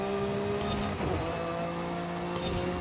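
A Dodge Viper race car engine in a racing video game holds a steady, loud mid-pitched drone with a brief shift in tone partway through, continuous with no talk.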